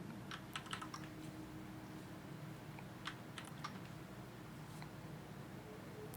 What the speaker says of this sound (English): you're going to type the word yes here in a second